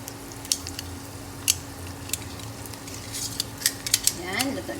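Champorado, a chocolate rice porridge, bubbles and cooks in a pot, giving a soft steady simmering hiss broken by several sharp clinks of a utensil against metal as it is stirred; no talking.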